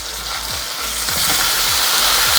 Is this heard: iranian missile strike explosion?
no